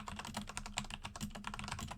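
Fast, steady typing on a computer keyboard, close and crisp, with dense overlapping key clicks running continuously and no voices over it.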